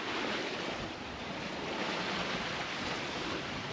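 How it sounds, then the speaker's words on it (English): Heavy ocean swell and breaking surf rolling up behind a sailing yacht on a Pacific crossing, a steady broadband wash with wind rushing over it, continuous and fairly loud, with no voices. "There are big waves creeping up behind us"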